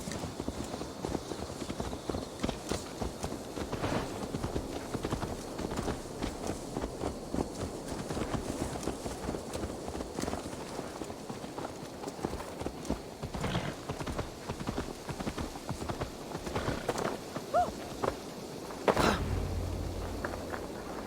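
Horse hooves clopping in Assassin's Creed Valhalla, a steady run of hoofbeats close by that persists for a long stretch, with a brief burst of louder noise near the end.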